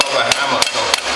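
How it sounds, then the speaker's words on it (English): Three dull, solid thuds of a rubber mallet striking a motorcycle swing arm, evenly spaced and close by. "I got a rubber hammer"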